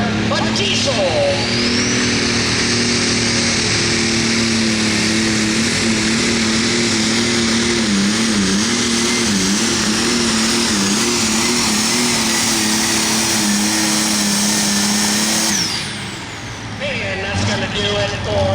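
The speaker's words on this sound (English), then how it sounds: "Here comes the John Deere 4010, Bill Schickler, a diesel." A John Deere 4010 diesel tractor roars at full throttle during a truck and tractor pull at a county fair, a loud sustained engine drone with wavering pitch lasting about fifteen seconds before cutting off, with an announcer heard over it.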